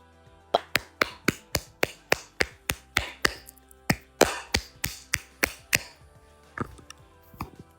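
One person claps steadily, about fifteen sharp, evenly spaced claps, then a few softer, scattered ones trail off. The claps are close and crisp, with no talking.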